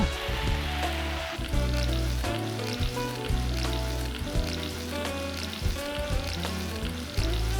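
Spinach, onion and tomato fry in a pan for a rajma palak curry, a steady close sizzle running throughout with repeated stirring clatters and scrapes, no voices.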